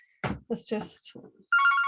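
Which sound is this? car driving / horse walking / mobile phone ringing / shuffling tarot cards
mobile phone ringing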